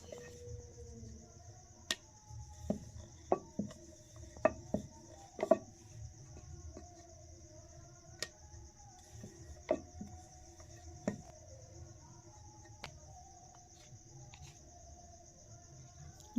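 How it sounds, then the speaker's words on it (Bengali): Luchi dough balls being rolled out one by one with a rolling pin, giving scattered soft wooden taps and knocks at an irregular pace over a quiet room hum with a faint steady high whine. "আমি এখন এক এক করে সমস্ত লুচিগুলো বেলে নিচ্ছি"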